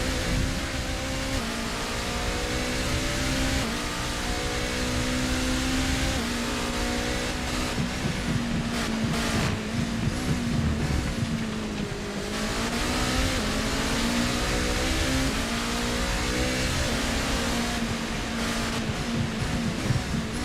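A Porsche race car in a sim racing game at Suzuka drones loudly and steadily for the whole stretch, its engine pitch rising and falling with throttle and gear changes, with no talking over it.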